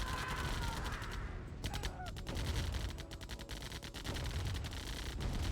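Rapid minigun fire in the real-time strategy game Command & Conquer: Tiberian Dawn, a dense rattling burst of gunfire mixed with other battle effects, continuous and loud throughout.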